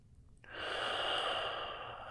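A single long, soft exhale through the nose or mouth during a held yoga pose, starting after a brief quiet moment and sustained steadily, close and gentle, with no talking.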